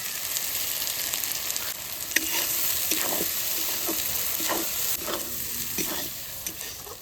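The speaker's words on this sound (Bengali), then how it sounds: "এবার মশলাটা আমার সুন্দর করে কষানো হয়ে গেছে" A spice masala of Kashmiri chili powder, turmeric and salt is sautéed in a pan, hissing continuously up close while a spatula scrapes and taps in an uneven rhythm.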